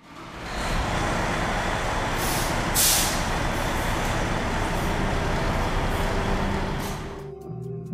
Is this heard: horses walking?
no